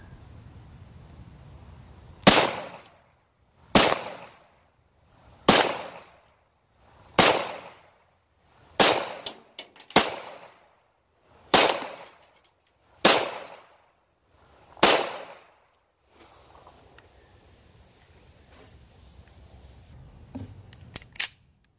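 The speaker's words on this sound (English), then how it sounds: "here we go with 9 more shots" Nine gunshots fired into a bullet trap ring out as sharp, evenly spaced cracks about one and a half seconds apart, each with a brief decaying tail, then faint outdoor ambience with a few small clicks.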